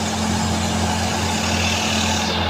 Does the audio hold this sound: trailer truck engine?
yes